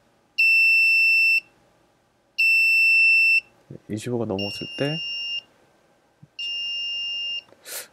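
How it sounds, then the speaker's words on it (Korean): A high-pitched Arduino-driven electronic buzzer alarm beeps in about one-second bursts, switching on and off repeatedly, with someone speaking between the beeps. "이런 식으로 경보음이 잠깐 울렸다가 꺼지고, 잠깐 울렸다가 꺼지고"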